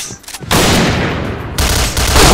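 Gunfire from the shooting game Point Blank: after a brief quiet start, loud, close, rapid automatic bursts roar almost continuously, break for a moment, then resume at full intensity.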